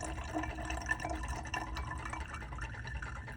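Liquid culture poured out of a lab container holding a stir bar, a faint splashing, trickling pour with dripping, continuous over a few seconds at low volume.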